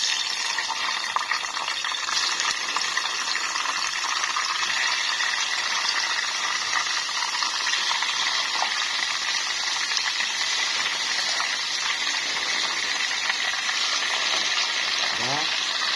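Chicken frying in hot oil in a home kitchen, with a steady, dense sizzle and hiss that holds evenly throughout.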